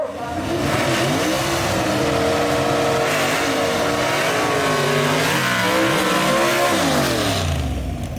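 A gasser drag race car at Union Dragway roars loudly and steadily, its engine pitch climbing and dipping through repeated revs for the whole stretch, close and dominant.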